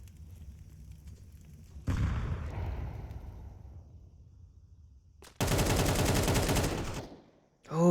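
Gunfire in a competitive shooter match, with a loud burst of shots followed by a decaying rumble and then a long, dense spray of automatic fire. The shots are close and prominent, and no one talks.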